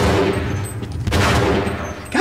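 Gunfire in Half-Life, a loud, dense volley of shots followed by a heavy blast, with a sharp burst near the end.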